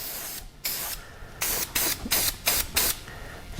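An aerosol can of K&N filter oil sprays onto a Harley Davidson air filter in a rapid string of short hissing bursts, close up, with brief pauses between the squirts.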